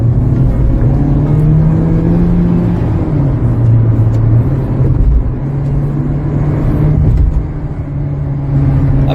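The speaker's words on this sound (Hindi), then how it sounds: "अब भगाते हैं, देख रहे हैं, अगर आप नोटिस करेंगे RPM इसका बढ़ रहा है। अब मैं पिकअप दबाता हूं" A Hyundai Kona SUV accelerating on an open road, its engine drone rising in pitch as revs climb, loud and close from inside the cabin, with brief dips where the throttle eases before pulling again.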